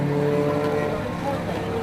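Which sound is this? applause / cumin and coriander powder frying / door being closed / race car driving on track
race car driving on track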